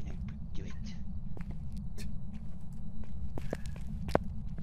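Ghost footsteps in the video game Phasmophobia, a scattering of soft, irregular steps and light taps over a low rumbling background, with voices faintly present.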